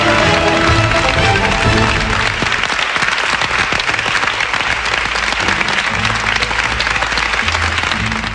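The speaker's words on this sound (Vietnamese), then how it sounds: "Chúng ta hãy cho một tràng pháo tay để chào mừng 50 bạn gái đang tham gia vào vòng 1 của trò chơi Quà tặng tri thức hôm nay." Studio audience applause greeting fifty women contestants in round one of a Vietnamese TV quiz game show, sustained and loud, steady dense clapping filling the whole stretch with a faint crowd murmur.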